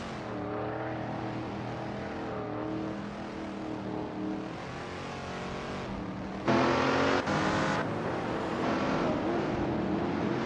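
Race cars on a track roar at high revs under continuous engine drone, with layered engine notes rising and falling as cars close up and pass, and one louder, brighter car sweeping close by near the end.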